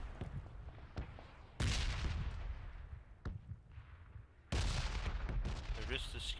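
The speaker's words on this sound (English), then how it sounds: "Mate, there's bombs coming here." Bombs blast in the PUBG battle royale video game, with two heavy booming explosions and scattered sharper cracks in between, loud against a low rumbling background.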